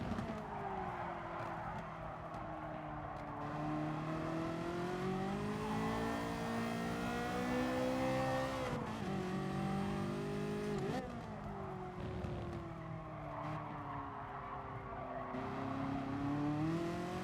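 A Porsche race car engine roars steadily in Gran Turismo Sport, its pitch rising and falling through gear changes at constant loud volume, with brief dips as it shifts and a faint tire squeal.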